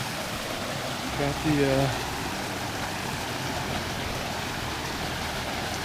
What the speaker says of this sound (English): we already have a river crossing